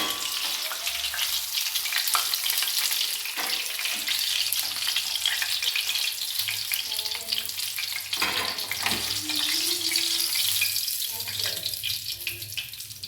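Home-made chicken broast sizzles and crackles steadily as it deep-fries in oil, a dense continuous hiss close up with a few faint clinks and stirring sounds and no talking.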